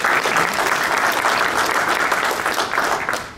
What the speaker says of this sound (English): Can we give the ITC a round of applause?